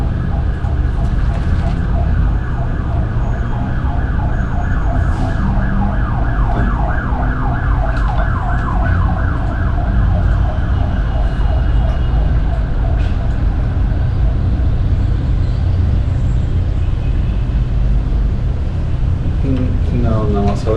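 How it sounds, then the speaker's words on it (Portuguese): An ambulance siren passes outside a sealed room in a city, its steady wailing cycle carrying through loudly over a constant low rumble. A voice is briefly audible near the end. "que realmente passou uma ambulância aqui"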